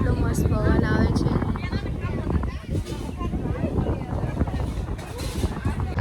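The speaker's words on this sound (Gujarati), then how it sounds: "એટલો મસ્ત પવન આવે છે" Wind blowing by a village lake, buffeting the microphone as a continuous rough rush under nearby voices talking and chattering throughout.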